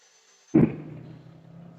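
Angle grinder with a blade set about 6 mm deep, mounted in a guide, cutting a groove into wood: a sudden loud bite into the workpiece, then a steady whining grind that tapers slightly as the cut continues.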